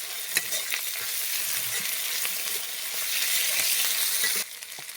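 Spices fry for a chicken curry with cauliflower and potato, among them a paste of cumin and coriander with onion and ginger-garlic paste. Oily sizzling fills the pan steadily, with scraping stirs throughout before the sizzle drops abruptly near the end.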